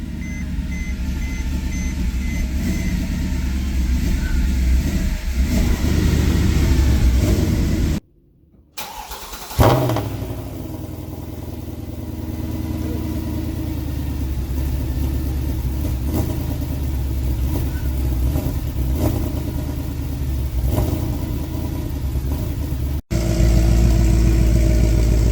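Mercedes E63 AMG with its M156 V8 running through new aftermarket headers: the engine fires up after a brief silence, then a loud, steady, deep rumble holds close by, with a short cutout near the end before it resumes.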